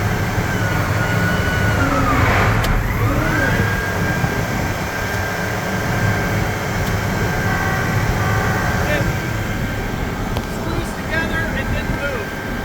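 Combine harvester with its rear chopper running, a steady loud mechanical drone with a low rumble and a constant hum that holds throughout.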